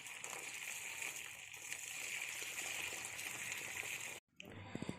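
Excess water draining off soaked wheat grains being prepared for mushroom spawn, a steady hissing, splashing pour that runs continuously and then cuts off abruptly near the end.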